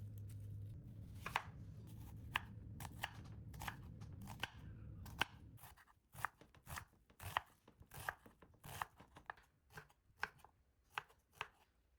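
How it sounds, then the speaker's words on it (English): Peeled onions being cut into small pieces with a knife on a board, a run of crisp, close chopping taps that start sparse over a low hum and then come quicker and more regular, with no talking. "Peel and cut the onions into small pieces so they're easy to blend."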